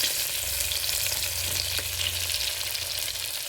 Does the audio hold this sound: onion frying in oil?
yes